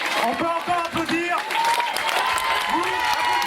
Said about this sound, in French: On peut encore applaudir.